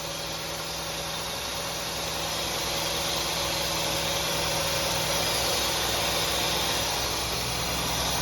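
A 1985 Chevrolet C10 squarebody pickup engine running for the first time in twelve years, a steady, loud idle drone with constant broadband hum and no voices.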